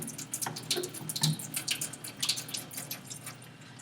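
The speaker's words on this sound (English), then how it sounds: "I'm going to turn on the water at a lukewarm and lightly so it doesn't splash everywhere" Tap water runs lightly at lukewarm into a sink while hands are wetted and washed, a steady close trickle with scattered drips and small splashes.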